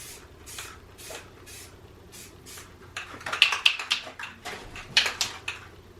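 Rust-Oleum touch-up spray paint applied to wheels being fitted on a BMW E38 or E39, short soft hissing bursts of an aerosol can, faint at first, then denser and louder toward the end.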